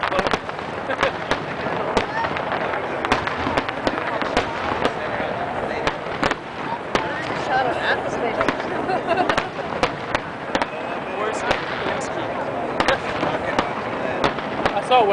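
Fireworks burst before the Texas Stadium implosion in a dense, continuous crackle of sharp pops and bangs, with voices of a crowd talking underneath.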